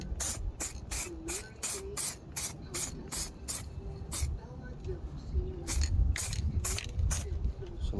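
An aerosol can of Custom Shop Custom Coat self-etching acid etch primer sprays in a run of short, rhythmic hissing bursts over rusty car bodywork near the rear windshield frame. The bursts are close and fairly loud, with brief pauses between them.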